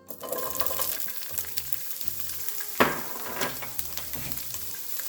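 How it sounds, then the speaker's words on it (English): Peppers fry in a skillet of avocado oil and extra virgin olive oil, giving a steady close sizzle with crackles and one sharp burst in the middle as they hit or are stirred, with no talking. "some avocado oil and some extra virgin olive oil. Now add in our peppers."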